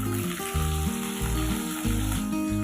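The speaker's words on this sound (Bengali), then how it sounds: "ভালোভাবে পটল আর আলুগুলো আমি ভেজে নিব" Potato and pointed gourd pieces fry in oil in a pan, giving a continuous bright sizzle that runs throughout under steady background music.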